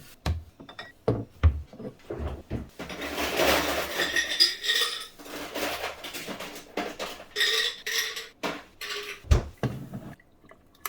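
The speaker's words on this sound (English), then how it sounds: "Do a little swirl mix here because I couldn't find my spoon." Coffee in a Hario V60 pour-over setup is swirled by hand, giving intermittent clinks of glass and ceramic with soft liquid sloshing between them, close and quiet with no talk.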